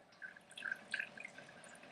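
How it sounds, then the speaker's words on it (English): Water dripping and trickling from a handful of squeezed, wrung-out spinach in a home kitchen, a few soft, close, faint drips over quiet background. "just squeeze it, like you're wringing it out"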